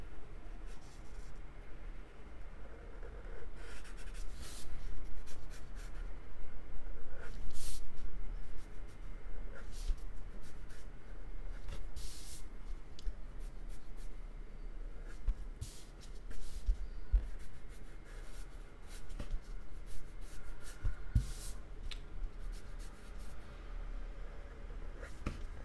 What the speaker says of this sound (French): Donc, j'y vais directement au feutre.